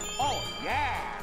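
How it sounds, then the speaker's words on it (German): Two bright, wobbling chime-like bell tones ring in the Mario Party Superstars video game, each short and clear, one near the start and another midway, close and fairly loud. "Läuten wir die Glocke."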